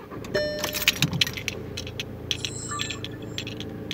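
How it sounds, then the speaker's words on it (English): A car key jangles on its ring as it is turned in the ignition, followed by faint electronic chimes and a low hum inside the parked car, close and quiet with no talking. "I'm going to switch the ignition on and see what happens"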